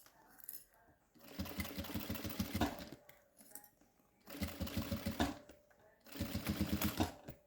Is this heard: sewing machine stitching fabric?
yes